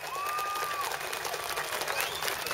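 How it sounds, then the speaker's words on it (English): Crowd at an outdoor election rally in Pasir Ris Park breaks into applause, a steady wash of clapping with some cheering, moderately distant, while a brief tonal whistle or feedback tone rises early on. "Give yourself a big round of applause."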